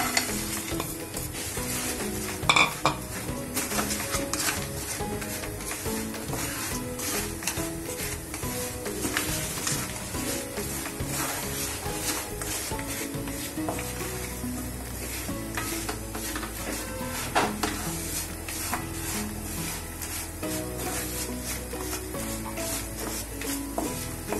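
Jaggery melts in a spoonful of ghee while a spoon stirs it round a pan. Soft sizzling runs under repeated scraping and clinking strokes, close and steady throughout.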